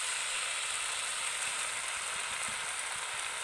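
Soy sauce and tomato sauce sizzle in a hot pan, a steady, even hiss filling the whole moment, close and constant with no talking.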